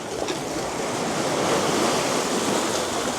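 Sea waves wash onto a North East England shore in a steady broadband rush, close and fairly loud, with some wind buffeting the microphone and no voices.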